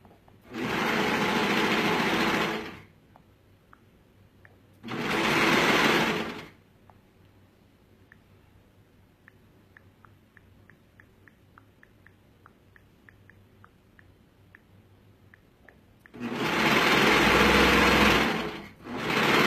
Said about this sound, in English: Now I'm actually going to sew down my side seam.